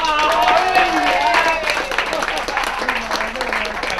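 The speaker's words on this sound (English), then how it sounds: "Give him a round of applause, man." A small group claps and cheers in a lively studio setting while people talk and whoop over the clapping throughout, the applause holding fairly loud and close.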